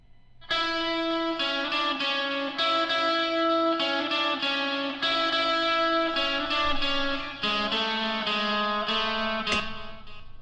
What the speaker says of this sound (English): what I've done is I've added an extra, well, bit of a lead guitar at the end